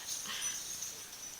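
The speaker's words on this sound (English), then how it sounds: "Here's our 9-year-old Yorkie Poo." A 9-year-old Yorkie Poo whimpers softly indoors, giving a faint, thin, high whine that holds steady with small wavers for a second or so.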